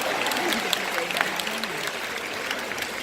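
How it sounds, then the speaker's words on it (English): Married members of a convention audience clap together in a brief, steady burst of moderate-level applause, with a faint voice in the background. "There's some married people clapping over here."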